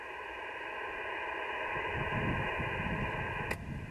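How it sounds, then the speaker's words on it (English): HF radio static from an Icom 7100 with a Little Tarheel mobile antenna, swelling into a louder, rougher hiss partway through as the antenna finishes tuning, with a brief click near the end. "See, static come out. Right there. The static came up"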